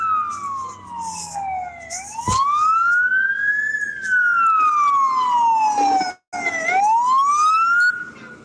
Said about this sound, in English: That sounds like a big fire truck.